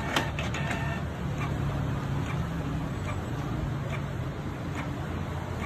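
A Canon G2000 inkjet printer prints a nozzle check page, giving a steady mechanical whir with faint ticks and clicks from the print head, close by and continuous, with no talking.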